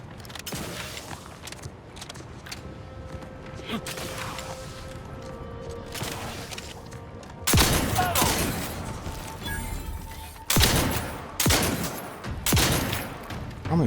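Shotgun blasts in The Outer Worlds 2, several loud broadband bursts after a stretch of quieter game ambience, spaced a few seconds apart, with brief talk around them.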